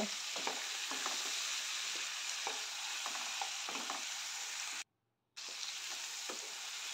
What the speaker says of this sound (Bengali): এবার নেড়ে চেড়ে কিছুটা সময় ভেজে নেব।